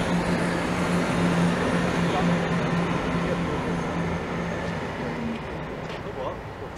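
A Class 170 diesel unit departs Peterborough station on a cross-country service, heard as a loud steady engine drone and rumble that eases slightly toward the end, mixed with broad station and traffic noise.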